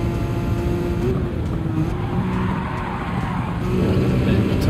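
A car in the Gran Turismo 7 video game skids on a wet, rain-soaked track, a loud, steady tire hiss and slide over a constant engine drone, close and unbroken throughout.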